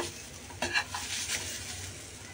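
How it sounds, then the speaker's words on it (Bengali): Potatoes frying in oil in a pan, a steady soft sizzle with a few brief stirring scrapes and clinks near the start, no voices. "পরিষ্কার করে রাখা আলুকেও এভাবে আমি ভেজে নেব"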